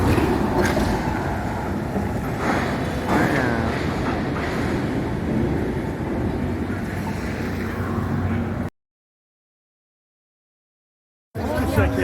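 A San Francisco streetcar running on rubber wheels pulls in with a steady, fairly loud rumble and road noise, close by, with people talking over it before a brief gap of silence.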